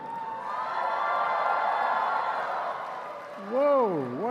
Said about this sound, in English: Whoa, what a crowd.